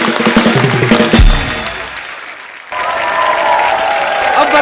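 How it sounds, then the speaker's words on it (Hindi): Studio audience at a Kapil Sharma Show comedy taping bursts into loud applause for Rajeev, cut short after about a second by a deep thud and a lull. Steady clapping and cheering then return at full strength. "राजीव के लिए जोरदार तालियां।"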